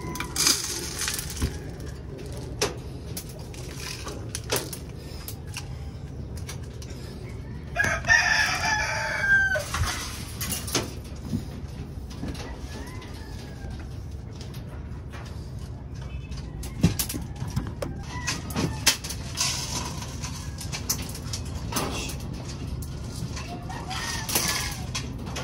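Breeder roosters crow and hens cluck at feeding time, with a prominent nearby crow and scattered clucks over rustling and crunching of feed in a steady farmyard background, no talking.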